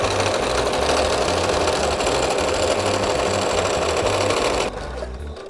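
Sewing machine stitching a quarter-inch seam around the tie of a pillowcase apron, a loud, steady, close whirring that runs for several seconds and then drops off near the end.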